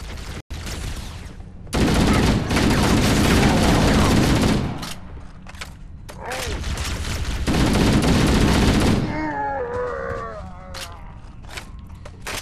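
Bursts of rapid gunfire in Halo: Combat Evolved on normal difficulty, loud sustained volleys with short pauses between them, followed by fainter rattling shots and chirpy alien-like tones near the end.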